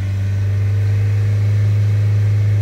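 Renault Trafic diesel engine held at raised revs during a blocked DPF pressure sensor check: a loud, close, steady mechanical drone with a strong low hum and no breaks.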